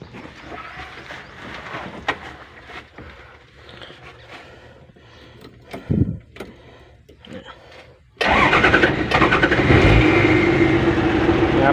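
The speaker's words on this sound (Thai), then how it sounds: "ตอนสตาร์ตตอนแรกก็ต้องแตะคันเร่งก่อนนิดนึง" A 5-cubic-meter diesel dump truck cranks and fires up with a touch of throttle, the engine catching abruptly into a loud, steady, close rumble after several seconds of quieter cab handling noises.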